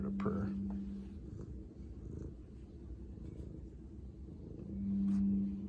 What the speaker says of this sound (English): See if we can get her to purr.